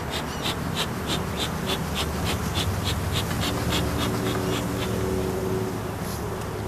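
Honeybees drone in an open, reasonably strong hive holding drones, a continuous close buzzing hum with a thin flutter of wingbeats and no talking.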